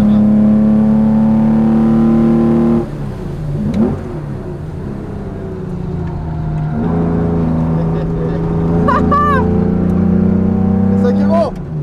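A 500 hp Lotus race car on a track, its engine droning steadily at high revs, shifting between gears and surging again as it accelerates, loud and close from inside the cockpit.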